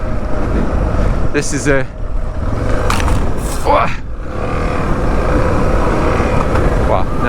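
Vehicle crawling in first gear over loose desert gravel in the Negev's Arava, a rough continuous rumble with wind buffeting the microphone and a person talking over it.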